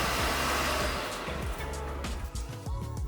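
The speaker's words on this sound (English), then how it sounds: "And the warm air dryer will start." Warm air dryer of a HOROW X70 smart toilet running with its moving dry function, a loud, steady whooshing airflow with a motor whine that holds continuously, shifting slightly in pitch near the end.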